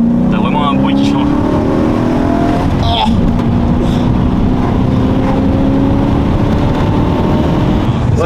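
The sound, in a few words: ethanol-fuelled V8 car engine revving past 3000 rpm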